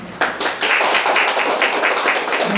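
Audience applause at a Korean arts press conference as the committee chairman is welcomed, a close, steady burst of many hands clapping that starts abruptly and carries on throughout, with no talk over it.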